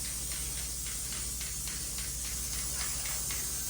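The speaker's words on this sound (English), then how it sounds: "now I can tell where the glue is going to spray." Spray glue misted onto cardboard while making auto blinds, a soft steady hiss with faint pulsing bursts, quiet and close, with a low hum underneath.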